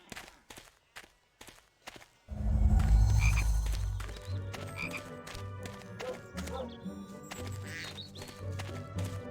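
Chocolate frog in the Harry Potter and the Chamber of Secrets video game croaks loudly and repeatedly at close range after a few soft footsteps, its deep throaty calls sustained for several seconds.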